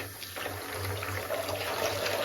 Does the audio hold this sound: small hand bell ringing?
no